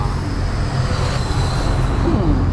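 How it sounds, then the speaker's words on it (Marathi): Road traffic at a highway toll plaza near Vadape, on the way toward Bhiwandi close to the Samruddhi Mahamarg expressway: a dense, continuous rumble of passing vehicles with steady broadband roar and no gaps. "गाड्या येत आहेत जात आहेत"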